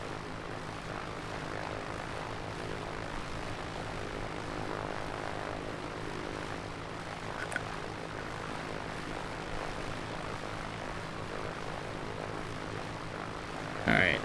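Propeller airplane engine idling steadily in Microsoft Flight Simulator after landing, a continuous droning hum with a low harmonic buzz at constant level, one brief click midway and a short louder bump at the very end, no speech.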